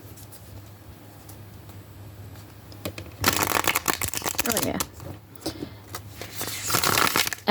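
A thin-cardstock tarot deck is ruffle shuffled up close, its dense riffling bursts coming in two rounds with brief handling pauses, and a short spoken remark between them.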